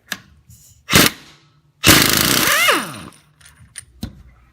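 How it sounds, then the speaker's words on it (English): Pneumatic impact gun removing the 18mm crank bolt on a Ford 5.4L V8, close and loud: a short hammering burst, then a longer rattling run that winds down as the tool spins off, with quieter clanks around it. "let's go ahead and take the crank bolt out"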